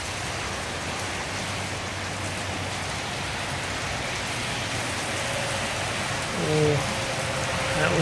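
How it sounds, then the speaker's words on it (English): Heavy rain pours down steadily and close, a dense even hiss on surfaces that holds for the whole stretch, with a brief faint voice-like sound near the end. "It is raining pretty hard."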